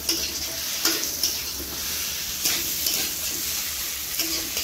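Potatoes and green chillies sizzle in an oiled pan for a rohu fish curry, a steady frying hiss broken every second or so by the scrape of a stirring spatula, close up and with no talking.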